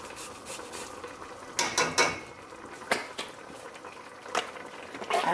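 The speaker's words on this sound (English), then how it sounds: "I'm going to grate some ginger here." Fresh ginger is grated at the stove for a sprouted chickpea curry, giving irregular close scraping strokes and light metallic clinks over a faint kitchen background, no one speaking.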